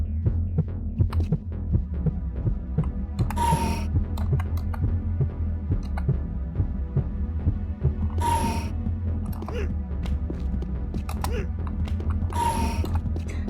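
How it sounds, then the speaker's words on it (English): Low-health heartbeat in Unreal Tournament GOTY, a steady throbbing pulse repeating throughout over a constant low hum, with a few brief brighter game sounds breaking in. "it's not only the player who hears that heartbeat, but it's everyone else around the player can hear the heartbeat when they're low on health"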